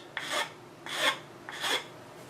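A rasp scrapes a wooden Queen Anne chair part to round and bevel its end, making three distinct, even rasping strokes close up with short pauses between them and no voices.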